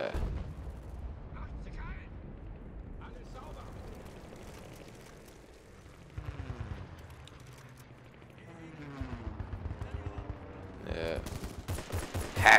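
Gunfire in the shooter game Battlefield Bad Company 2: scattered bursts and single shots with distant explosion-like rumbles, fairly quiet and continuous, ending in a louder burst.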